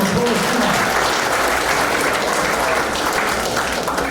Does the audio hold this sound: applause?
yes